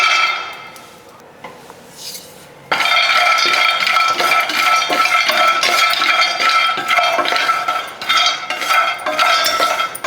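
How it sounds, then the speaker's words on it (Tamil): Almonds dry-roasting in a heavy pan, a rapid rattling, clinking scrape as the nuts are stirred, quiet at first, then loud and continuous from about a third of the way in. "அடுப்பில் வந்துங்க ஒரு கனமான பேன் வச்சுருக்கேனுங்க. அதில் வந்து பாதாம் போட்டு வறுத்துக்கலாங்க."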